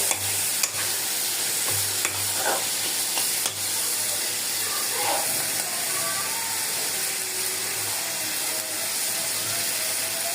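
Tengra fish with extra tomato being sautéed in oil in a pan, steady sizzling with scraping stirs and occasional clacks of the utensil against the pan, no talking.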